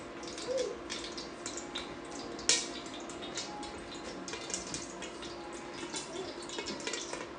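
Leftover water spits and crackles in hot olive oil in a pan during home cooking, a steady close sizzle scattered with small pops and one sharper snap, continuing with no talk.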